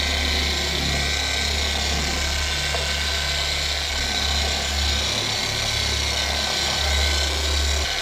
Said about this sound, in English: Now we're going to speed up the machine polisher and then move slowly, and that's going to give us the cut.